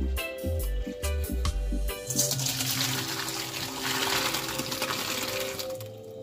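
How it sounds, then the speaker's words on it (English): After a few clanks of a pot, water pours out in a steady rushing stream, splashing continuously into a sink for several seconds. "let's go ahead and pour out the water for the pasta."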